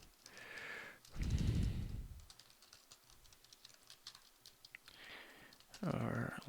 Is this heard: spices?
no